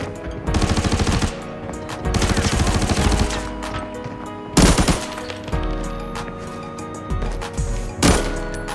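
Automatic gunfire bursts in the Arena Breakout video game as shots go through a door, several loud rapid volleys separated by short pauses, with sharp single cracks near the middle and end.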